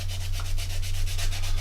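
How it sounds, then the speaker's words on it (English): Plastic part of a Revell 1/48 Tornado model being sanded, a rapid series of rhythmic rasping strokes, close and steady, over a constant low electrical hum. "what we're going to do is just take a few moments of sanding"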